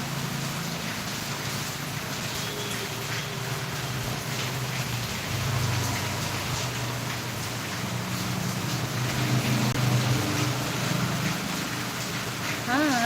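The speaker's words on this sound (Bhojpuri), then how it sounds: "बहुत ज़्यादा बारिश हो रही है" Heavy rain pours steadily during a morning downpour, a dense continuous hiss that stays loud throughout, with voices talking faintly in the background.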